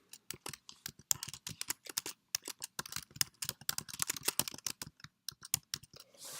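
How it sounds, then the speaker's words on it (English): Rapid, irregular keystrokes on a computer keyboard, clicking steadily for several seconds as course numbers and names are entered, close and fairly quiet with no talking. "And then I'm going to type in the course number, dash, and then the course name."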